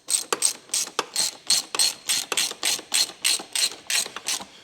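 Ratchet wrench tightening a bolt while installing a kickstart on a 2026 Beta 200 X-Pro Race Edition dirt bike; a rapid series of sharp, close clicking bursts in an even back-and-forth rhythm, alone without talk.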